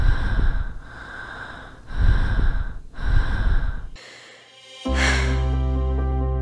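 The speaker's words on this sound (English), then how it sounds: "3 deep breaths." Three deep human breaths follow one another in a slow, even rhythm, each a loud, close, airy rush of inhaling and exhaling, followed by a sustained musical tone.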